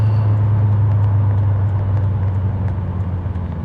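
A BMW M3 E30 Sport Evolution is driven on the road. Its engine gives a steady, loud, low drone with some road rumble, heard from inside the car.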